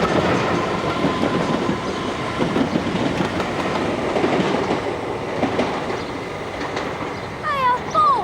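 A heavy train of around 400 to 500 tons passes at high speed on a railway, a loud, steady roar with rhythmic wheel clatter and a brief squeal near the end.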